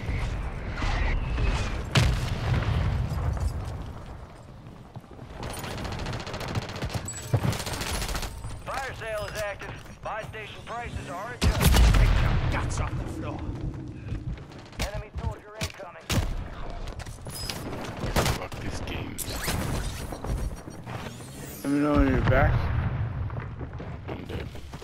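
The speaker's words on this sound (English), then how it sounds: "Dude was shooting a ray gun." Ray gun fire in a multiplayer shooter game, with rapid bursts of shots and sharp cracks scattered through the clip while a voice talks over the action.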